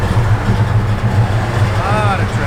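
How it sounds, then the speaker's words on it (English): Road traffic rumbles close by, idling and passing car and truck engines in a steady low drone, with voices talking over it and a brief higher whine near the end. "Lot of traffic."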